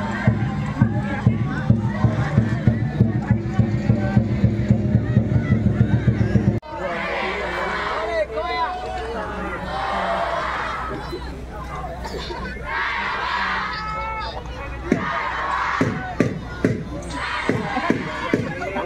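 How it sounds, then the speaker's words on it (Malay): Football spectators packed behind the goal at a stadium roar and chant, rhythmic clapping and drumming at first, then a swelling crowd cheer with shouts and a commentator talking over it. "Ini penonton-penonton di kawasan belakang gol."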